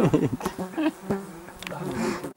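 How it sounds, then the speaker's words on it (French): Two flies buzzing close by outdoors in a steady, wavering drone that rises and falls over a couple of seconds, with no talking. "Il y a deux mouches dessus, c'est magnifique."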